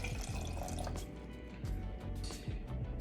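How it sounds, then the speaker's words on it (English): Water streams into a steamer pot for making sakura mochi, a continuous splashing pour with gurgling and dripping at close range, steady throughout with no talk. "So let's add water."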